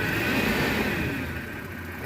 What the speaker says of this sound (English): I always wonder why these old Renix ones just really don't know how to idle when they're not warm